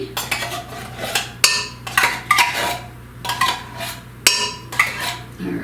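Condensed tomato soup is spooned from a can into a cooking pot, with repeated metallic scrapes and clinks of the spoon against can and pot in an uneven rhythm, close and fairly loud, under a low steady kitchen hum.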